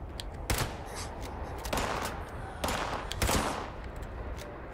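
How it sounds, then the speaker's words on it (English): Bursts of gunfire in Fallout 76 crackle in several loud volleys, with rapid shots between and a steady noisy background. "There's plenty of gunfire."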